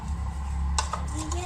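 Powdered sugar being mixed into fruit chaat with a spoon in a bowl: a few light clinks and scrapes of utensil on the dish, heard close and fairly quiet.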